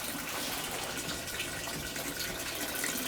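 Water runs steadily into a Haier HPL21N portable washing machine, filled with a mix of hot and cold water. A continuous, even rushing and gushing flow is heard close up with no talking.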